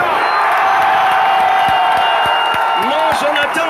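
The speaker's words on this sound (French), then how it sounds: "Je vous invite à applaudir pour le professeur Kouvanda." At a rally in Yaoundé's omnisports stadium, a large crowd cheers and claps in a dense, continuous roar, with whoops and a voice over a loudspeaker rising above it.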